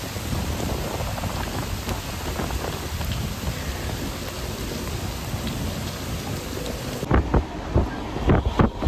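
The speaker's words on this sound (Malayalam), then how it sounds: "നല്ല കാറ്റും നല്ല മിന്നലും എല്ലാം ഉണ്ട്" Strong wind and heavy rain in Hosur, a dense roar of rainfall with gusts buffeting the microphone, then several sharp, louder bumps and rushes toward the end.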